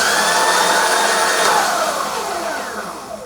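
The electric motor of a Mototec 60v supermoto whines loudly at high pitch, then winds down in a falling tone after the throttle is released, with no regenerative braking.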